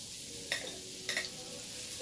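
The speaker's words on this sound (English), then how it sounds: "straight into the pan with our sweet potato" Small-cut sweet potato hits a pan of aromatics and sizzles softly, with a couple of brief scraping stirs breaking through the quiet, close frying hiss.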